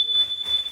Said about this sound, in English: our carbon monoxide alarm is going off, and we don't know why